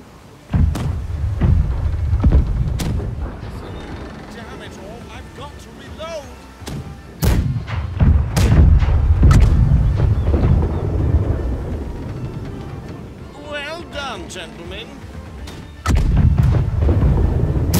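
Ship cannons firing broadside in the naval game Blackwake, several heavy booms in irregular bursts with rumbling tails, near and loud, separated by quieter stretches where people talk.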